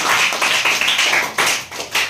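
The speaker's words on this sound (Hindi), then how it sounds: "बजा दो ताली इसके लिए भी।" Classroom students clap together in quick bursts, a group applauding a classmate's answer in an English grammar lesson, with short pauses between rounds of clapping and no talking.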